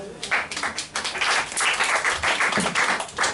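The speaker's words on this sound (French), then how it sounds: "Acclame pour Jésus-Christ" A church congregation applauds for Jesus Christ during a sermon, a dense burst of clapping that rises and falls over a few seconds, close and loud, with voices mixed in.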